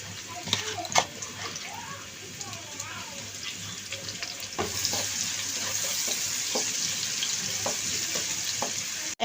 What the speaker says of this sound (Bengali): আমি আলু ভাজা তেলের মধ্যে দিয়ে দিব এখন পেঁয়াজ কুচি।